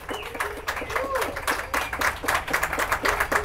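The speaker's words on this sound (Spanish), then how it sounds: "Un fuerte aplauso." Strong applause from a crowd at the opening of an eco-library reading corner, dense clapping close by with scattered voices underneath.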